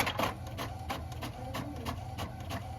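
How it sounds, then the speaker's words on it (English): A printer with no ink churns out blank pages, its mechanism whirring and clacking in a regular pulsing rhythm, close and steady with no voices. "It's just printing blank pages."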